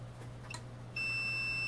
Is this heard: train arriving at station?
no